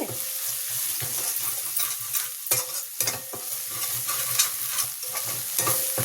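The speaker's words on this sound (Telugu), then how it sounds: "వేసేసి ఒకసారి కలిపేద్దాం. 2 నిమిషాలు అటు ఇటు వేపేసుకునండి" Ginger garlic paste fries in a pan while a spoon stirs it, a continuous close sizzle with repeated scraping knocks against the pan.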